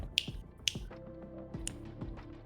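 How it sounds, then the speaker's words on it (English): Three crisp finger snaps land close and bright, spaced about half a second to a second apart, with faint low murmuring voices and tonal hum underneath. "Don't make me snap my fingers in a Z formation"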